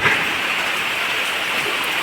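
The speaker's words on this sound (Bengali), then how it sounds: "মাত্র বৃষ্টি শুরু। কি করা যাবে বৃষ্টির ভিতরে," Steady rain falls in the morning at a home where earth-cutting work was planned, a continuous broadband hiss with no distinct drops, loud and even throughout.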